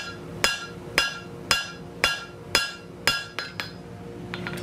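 A hammer strikes steel while drawing out a small nub on decorative forged work, ringing blows landing in a steady rhythm of about nine hits, loud and close with metallic chiming after each strike.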